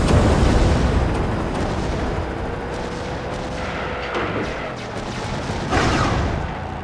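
A vehicle collision in the video game Crush Hour, heard as a loud, dense crashing roar with explosive booms that rumbles on for several seconds, then swells again near the end, with no talking.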